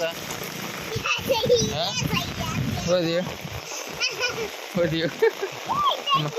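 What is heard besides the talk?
torrential heavy rain falling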